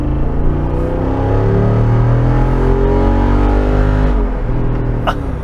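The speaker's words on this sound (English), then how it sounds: "I got the active exhaust on." A 2023 Jeep Wrangler Rubicon 392 with active exhaust open, a loud, close, deep V8 rumble that holds steady and then shifts in pitch as the engine note changes, with no talking.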